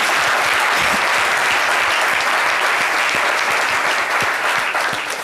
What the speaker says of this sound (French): il faut les applaudir.